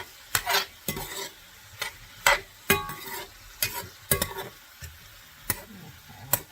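A spoon scrapes and knocks against a cast iron skillet as minced garlic is stirred, giving irregular close clinks and scrapes over a faint sizzle.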